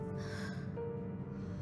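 An unconscious woman breathes in the Murder on the Orient Express game, giving a single soft, close gasping intake of breath over quiet ambience.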